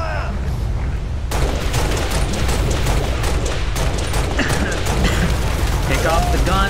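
Loud, continuous gunfire and explosive booms during a firefight at a mining facility in Halo: Reach, with heavy weapons pounding near and far. Radio-style voices talk over the shooting.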